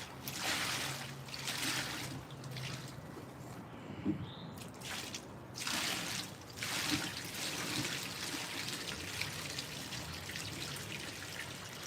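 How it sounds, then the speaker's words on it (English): Water is dumped out in several splashing, gushing pours, broad and hissy, rising and falling in bursts over about twelve seconds, fairly quiet and close. "Let's see if I can dump this water"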